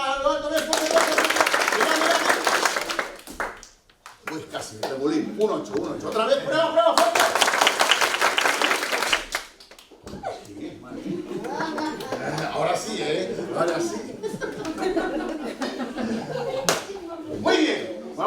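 A group of people claps the rhythm of the Toy Symphony together, two bursts of loud dense hand clapping separated by pauses, with a teacher speaking Spanish between and over the claps.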